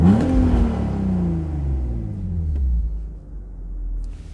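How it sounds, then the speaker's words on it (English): BMW Z3 3.0i engine revved once while parked, a sharp rising burst then a falling rumble settling to idle, close and alone. "I'm going to rev the engine quite unnecessarily."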